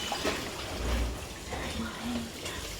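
Water runs steadily from a tap while a girl bathes in a home bathroom, a continuous splashing flow heard a little distant, with faint voices around it.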